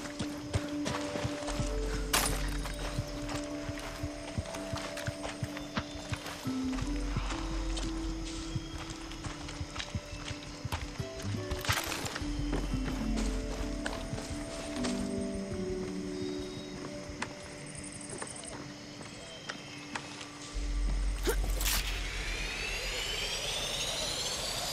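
Horse galloping in the Far Cry 6 video game, a steady rhythmic run of hoofbeats that carries on throughout, mixed with a loud engine-like roar and other game effects.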